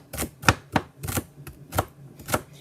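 Quick, irregular knife chops striking a board, about eight crisp taps close by with no talking.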